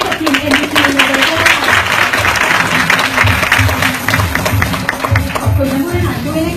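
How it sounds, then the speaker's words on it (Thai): An audience at the MEGA 2015 award and royal trophy presentation ceremony breaks into loud, dense applause that rolls on steadily for several seconds, mixed with crowd noise and a rhythmic low pulse beneath. "ขอเสียงปรบมือดังให้กับทีม MVP เลยค่ะ"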